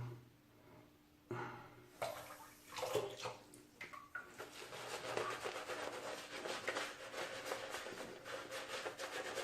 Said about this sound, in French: Rajouter un peu d'eau.